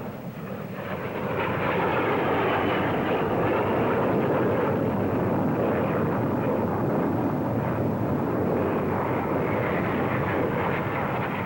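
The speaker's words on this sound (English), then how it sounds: "22 of them from 111 Squadron doing that fabulous formation loop" Twenty-two Hawker Hunter jets of 111 Squadron flying a formation loop at the Farnborough airshow, a loud, steady jet roar that swells in within the first second and holds as a broad rumble throughout.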